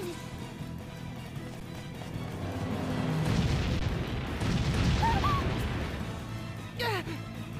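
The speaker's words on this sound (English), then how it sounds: "Cannon fire!" Cannon fire from an Eternian airship in the video game Bravely Default, heard as a broad rumbling burst of booms building midway and lingering under game music and voices.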